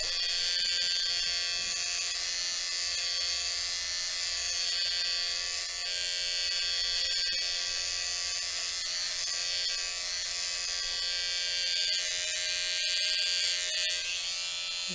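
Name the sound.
electric hair trimmer cutting a boy's hairline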